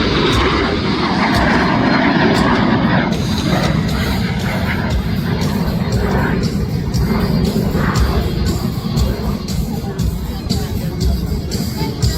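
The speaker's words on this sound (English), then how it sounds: "He's accelerating that aircraft on that Rolls-Royce engine. It's going to be a fast pass" An airshow aircraft with a Rolls-Royce engine makes a fast pass, a loud sustained engine roar and rush filling the whole stretch, with crowd babble and an announcer's voice underneath.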